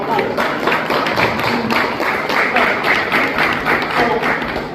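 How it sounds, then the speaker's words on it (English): A middle school crowd applauds for its boys, with dense, steady clapping mixed with cheering voices filling the space at close range for the whole stretch. "Can y'all give a round of applause for y'all boys?"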